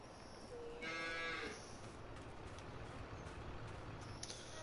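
Cows moo in Farming Simulator 22: one clear, fairly close bovine moo rises out of a steady farmyard background, with faint lower lowing and scattered small clicks around it.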